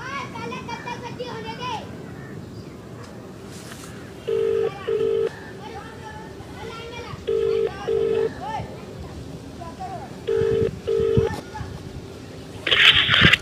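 Phone keypad tones beep in short paired bursts while children play and talk nearby, followed by a brief ringing tone at the end.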